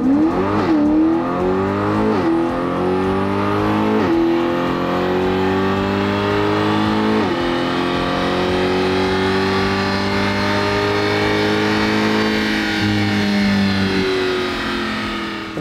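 A Chevrolet C8 Corvette fitted with an Eventuri intake revs hard on a dyno, its engine note climbing and dropping through several loud, sustained pulls in one continuous roar with no talking.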